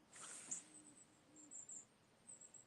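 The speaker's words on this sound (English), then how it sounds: "It's a regular owl, though." A faint owl hoots a few times in the distance over a quiet night backdrop, with insects trilling softly throughout.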